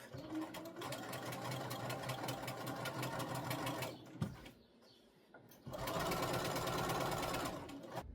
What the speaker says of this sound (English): I'll go ahead and stay stitch my neck edges because I don't want them to move